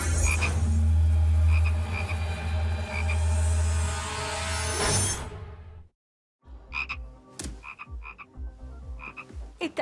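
Frogs croak loudly and continuously in a dense chorus, then after a short silence single croaks return in irregular bursts.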